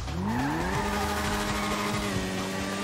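A car in GTA V brakes hard, its tires letting out a loud sustained squeal that bends upward in pitch and then holds steady over an engine rumble for nearly three seconds, with no talking.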